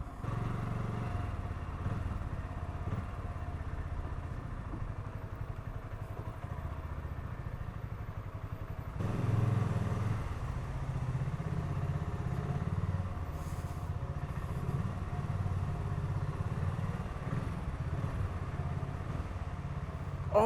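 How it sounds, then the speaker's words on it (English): A BSA Goldstar 650 motorcycle putts along at low revs in the city, its engine giving a steady, low, continuous thrum throughout with a slight shift in tone partway through. "you just putt this thing around at low RPMs and it's not bogging, it's just got the torque and it's happy to do that"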